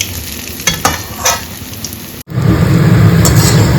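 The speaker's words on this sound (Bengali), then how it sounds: "একদম মিডিয়াম টু লো হিটে আস্তে আস্তে ফ্রাই করে নেব" Dahi vada lentil fritters deep-frying slowly in oil over medium-low heat, a loud continuous bubbling sizzle with a few clinks early, briefly cutting out before returning stronger.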